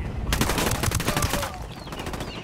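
Rapid automatic gunfire in Ghost Recon Wildlands, a loud sustained burst of many close shots that cuts off near the end, with faint game ambience after.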